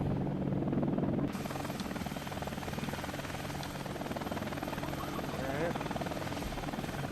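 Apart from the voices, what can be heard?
Hind attack helicopter landing in video game Air Missions: HIND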